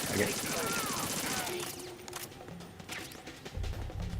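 Gunfire in the Metal Gear Solid 2 video game: a burst of rapid shots at the start, then scattered single impacts and crashes, with talk mixed in.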